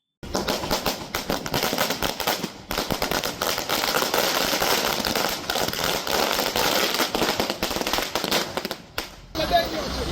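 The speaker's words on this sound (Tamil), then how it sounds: "தீர்ப்பு வெளியானதும் விஜய் ரசிகர்கள் பட்டாசு வெடித்து இனிப்புகள் வழங்கி கொண்டாடினர்." Firecrackers burst in a long, dense crackling barrage as fans celebrate a court verdict outdoors, loud and continuous with brief pauses, while a voice talks over the explosions.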